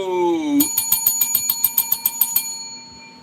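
A bell rings in a quick burst of about a dozen bright, evenly spaced strikes that leave a lingering metallic tone, after a brief voice at the start.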